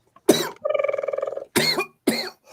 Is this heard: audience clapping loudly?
no